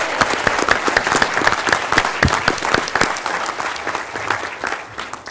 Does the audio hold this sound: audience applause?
yes